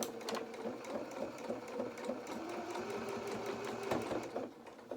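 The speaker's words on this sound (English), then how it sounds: "I'm sewing all the way around to the end" A sewing machine stitches a sole onto the bottom of an elastic baby shoe, running in a steady continuous whir with quick rhythmic needle ticks, close and fairly quiet throughout.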